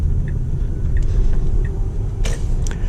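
A Tesla Model X electric car in Ludicrous Mode accelerates on the road, heard as a steady low rumble of tyre and road noise from inside the cabin, with a few faint knocks and no engine roar.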